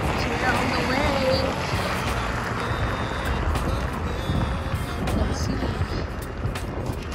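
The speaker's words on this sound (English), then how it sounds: "So we are just driving very slow" A scooter rolls slowly over snowy roads through farm country near Larvik, Norway, a steady close rumble with wind noise, as someone briefly talks over it.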